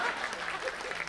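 Audience clapping at a Hindi comedy poetry show (hasya kavi sammelan), a short burst of moderate, fairly sparse applause with some crowd murmur and a voice mixed in.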